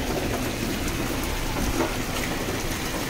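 Heavy rain pours steadily, a dense continuous hiss of drops striking surfaces nearby, loud and unbroken with a low rumble beneath and no talking.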